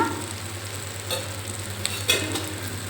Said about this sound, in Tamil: இது வந்து இந்த அவரக்காய் கூட வதக்கணும்